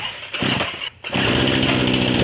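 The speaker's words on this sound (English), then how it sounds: "Chainsaw. Oh yeah." A chainsaw roars loudly up close while being used on a John Deere 1023E tractor cab, revving continuously with a brief drop and a cut-out before returning to full power.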